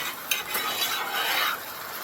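Canned petite diced tomatoes with their juice pour and splash into a hot pan, a dense wet hiss and sizzle with a little stirring scrape, close and fairly loud, no voices.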